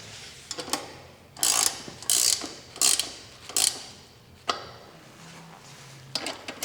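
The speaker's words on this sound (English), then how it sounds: "I'm going to go ahead and tighten the front wheel down real quick here using the 15mm wrench" A 15mm wrench ratchets in a series of short, sharp metallic clicks while tightening the front wheel of an electric cargo bike, close by and in irregular bursts.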